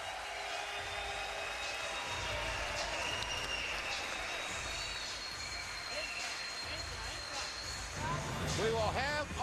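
A boxing arena crowd stands and applauds after a fight, sustained clapping and cheering throughout, with a commentator talking over it.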